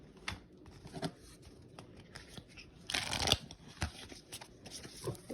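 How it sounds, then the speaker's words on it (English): Tarot cards from two decks are shuffled by hand in soft, quiet bursts of riffling and sliding, with a longer, louder flurry in the middle and short pauses between. "Thank you for being patient while I shuffle all my cards."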